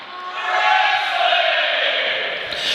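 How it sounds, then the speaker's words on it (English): Wrestling crowd at a T3 2017 first-round indie match roaring and cheering in support of Andy Harner, a broad sustained swell of voices that stays loud from start to finish. "Crowd really getting behind him here."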